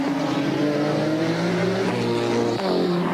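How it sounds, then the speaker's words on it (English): Race cars, including Commodores, in the 1992 Bathurst 1000 on a wet track hold a loud, sustained engine drone that rises in pitch, then drops sharply as a gear changes near the end. "about to put a lap on one of the Mobile Commodores as he swings by on Subaru straight"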